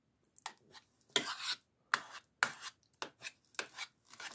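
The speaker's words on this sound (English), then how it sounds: "Gonna have to break up all that sauce so it mixes up into the apricot preserves" Cranberry sauce is broken up and mixed into apricot preserves, producing a series of about nine close, wet scraping and squishing strokes in an irregular rhythm with short silent gaps.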